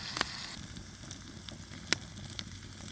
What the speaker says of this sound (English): we got the fries sizzling there now